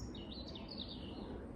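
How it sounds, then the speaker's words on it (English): Robins sing in a dusk chorus at the edge of a field, with a thin warbling phrase rising and falling over steady outdoor rumble and wind noise. "to listen to the dusk chorus of the birds singing away"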